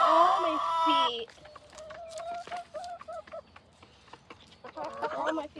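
Chickens clucking close by on a cold day as they crowd around people's feet, a loud squawk at the start followed by soft, repeated clucks and murmurs, with people talking alongside.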